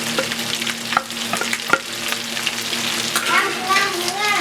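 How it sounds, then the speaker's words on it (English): Sliced carrots, green beans and broccoli stir-fried in a hot pan for pork pancit canton, with close, loud sizzling and repeated clattering scrapes of the utensil against the pan. "we're gonna put the vegetables, all of them. That's a carrot, some sliced carrots, the green beans, and the broccoli"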